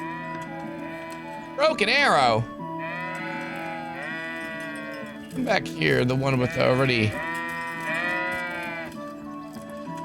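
Sheep bleating in the video game Kingdom Come Deliverance, with two loud, wavering bursts of bleats over a steady tonal background, while a person talks throughout.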